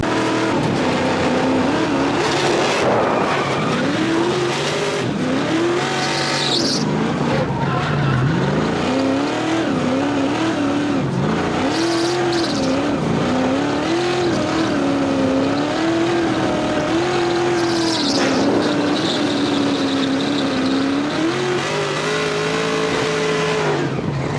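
An LS-swapped Mazda Miata's engine revs and wails continuously, rising and falling, with tires squealing as it drifts through turns at Englishtown Raceway Park, loud and close.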